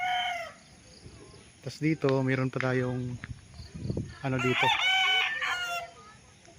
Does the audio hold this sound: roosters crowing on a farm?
yes